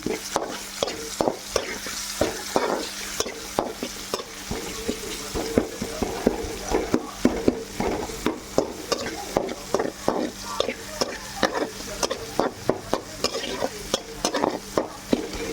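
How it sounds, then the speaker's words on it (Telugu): Spices and curry leaves frying in a pan, a soft sizzle under quick, regular scraping strokes of a spoon stirring continuously at close range, fairly quiet with no talking. "ఇవన్నీ బాగా వేయించుకోవాలి చూడండి తర్వాత కరివేపాకు వేసుకుంటున్నా"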